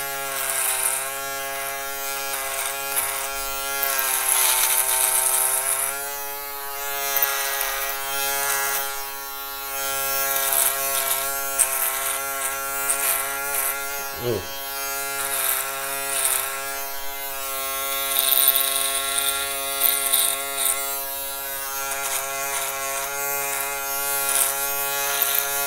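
Andis and Myrsol electric shaver running continuously as a steady, bright mechanical buzz close to the listener, with a brief change in pitch partway through as the cutter presses against hair.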